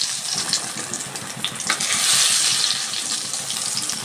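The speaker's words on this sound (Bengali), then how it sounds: "এইভাবেই আমি সবগুলো ভেজে তুলে নিচ্ছি" Radish fritters frying in oil in a kadai, a steady close hiss of bubbling oil with occasional soft pops, swelling a little louder midway, no voices.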